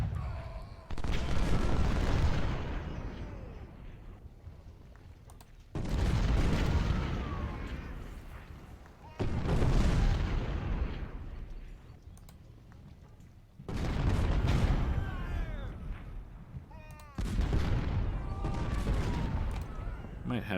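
Volleys of musket and artillery fire in an Ultimate General: Civil War battle at Salem Church, five loud rolling bursts of crackling gunfire and booms every few seconds, each swelling then fading.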